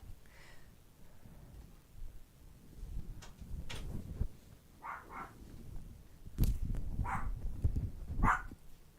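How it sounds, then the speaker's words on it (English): A dog barks several times in short, sharp bursts, fairly close, with some household clatter in the background and no talking. "Why are you barking? You're a weird dog."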